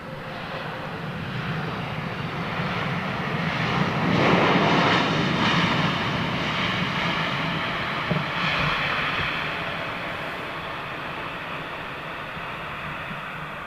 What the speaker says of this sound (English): Oh. BA Dreamliner. Oh, Virgin Dreamliner.